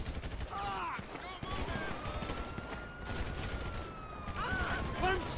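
Trevor firing a gun in GTA 5 story mode, a dense run of rapid gunshots and bursts continuing through the clip, loud and close, with a voice speaking over the shooting.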